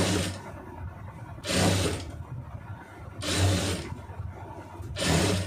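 A sewing machine stitching a round neckline in four loud, whirring bursts of about a second each, separated by short pauses, close up with no talk.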